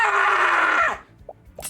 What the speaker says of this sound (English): violent, blood-curdling scream.